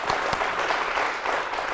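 An audience at a public discussion on COVID-19 vaccination claps for frontline doctors, a brief burst of steady applause from a room full of people.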